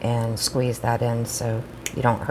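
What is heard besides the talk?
None of the usual background noises is heard.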